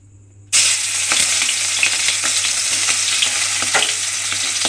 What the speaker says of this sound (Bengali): এবার আমি এই মাছের মাথাটা তেলের মধ্যে দিয়ে ভেজে নেব।